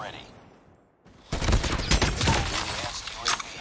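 Krig 6 assault rifle in a Call of Duty match, firing a dense rapid burst of gunfire after a quiet moment, loud and continuous with overlapping shots and game effects.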